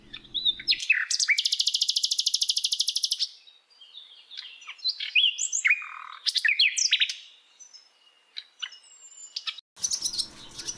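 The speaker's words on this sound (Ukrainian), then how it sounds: "Соловей." A nightingale sings a long, rapid series of loud, clear repeated notes, then varied warbling phrases and whistles, heard alone and close.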